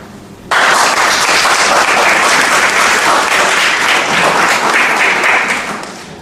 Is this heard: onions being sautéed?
no